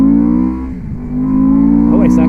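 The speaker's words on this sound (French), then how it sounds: "Waouh, le bruit, ça c'est un truc qui est remarquable avec cette moto." A Benda Dark Flag 500 V4 motorcycle engine, 500 cc, drones loudly and steadily with strong low harmonics, dipping briefly then rising again into a higher-pitched rev near the end.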